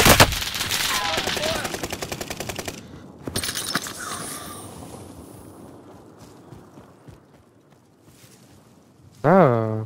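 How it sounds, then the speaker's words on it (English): Rapid automatic gunfire bursts in Call of Duty: Modern Warfare, loud and close in the first few seconds with a shorter burst after, then fading into quieter game ambience before a sudden loud tonal sweep at the end; a voice talks over the firing. "I'm under fire."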